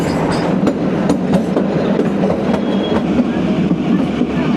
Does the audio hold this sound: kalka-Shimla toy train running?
yes